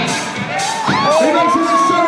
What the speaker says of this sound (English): A couple more people cheering